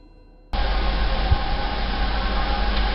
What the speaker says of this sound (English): he kept hearing what sounded like a distant train